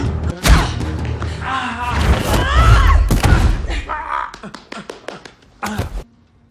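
Punches land during a fight, heard as several loud, close thuds and slams spread through the clip, mixed with grunts and movement noise, followed by a run of sharper taps.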